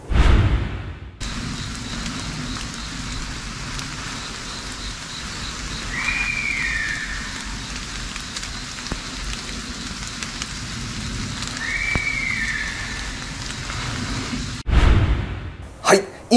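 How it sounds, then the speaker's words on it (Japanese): Deer calls in a field, two short high-pitched whistling cries about six seconds apart, fairly faint against a steady hiss of outdoor background noise. "現場で聞こえる鹿の鳴き声"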